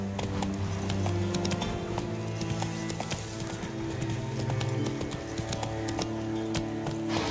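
Horse galloping in The Witcher 3 video game, a continuous rapid clip-clop of hooves at steady pace over a dense layer of game sound and music.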